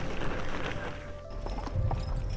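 Horse-drawn carriages on car-free Mackinac Island, hooves clip-clopping in a loose, uneven rhythm under a soft outdoor wash of ambient noise.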